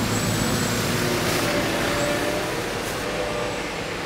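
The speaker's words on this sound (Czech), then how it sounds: "Tohle je náš speciální zametací vůz" A special street sweeper vehicle running inside a warehouse, a steady broadband motor roar with a faint whine, continuous and fairly close, easing slightly toward the end.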